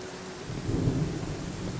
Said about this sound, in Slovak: Teda tomu hovorím, že iná búrka.